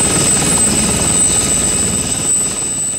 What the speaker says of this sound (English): Three police helicopters took off from the Croat capital, Zagreb